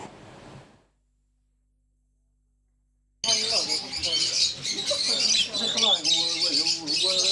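Birds on a bird-breeding farm squawk and chirp in a loud, dense chorus after a brief burst of speech and a few seconds of silence, the calls overlapping continuously and close to the listener.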